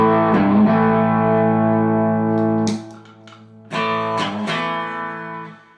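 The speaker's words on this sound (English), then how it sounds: "Still very clean. Tiny bit of breakup because it's a modelling amp and it's meant to emulate tubes, but it's not coming from this." Electric guitar played through a mini Rangemaster treble booster into a modelling amp, clean tone with slight breakup: sustained ringing chords that cut off abruptly, then fresh strums ringing out again, loud and close.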